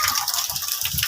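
Heavy rainwater pours from a drain during a Karachi downpour, a continuous close gushing rush of falling water with no voices over it.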